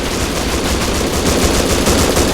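Dense, loud automatic gunfire from the survival video game Rust, a continuous rapid burst of shots close by with no pauses across the whole stretch.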